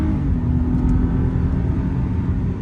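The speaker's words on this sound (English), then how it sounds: "And that V6 sounds amazing" The V6 engine of a 2015 Toyota Venza drones steadily and loudly up close, a low rumbling hum that holds an even pitch without any clear revs.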